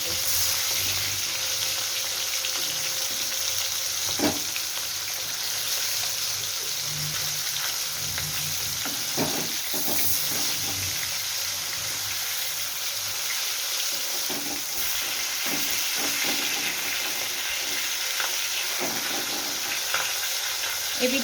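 Rui or katla fish pieces frying in oil in a pan, a steady close sizzle with occasional pops and a spatula scrape as pieces are turned, no voices over it.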